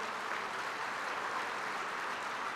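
Conference audience of Rotary District 3190 members applauding the organizers, a steady, dense wash of clapping that holds evenly from start to finish with no speech over it.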